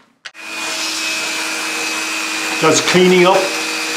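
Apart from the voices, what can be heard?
diamond Dremel grinding lead figure legs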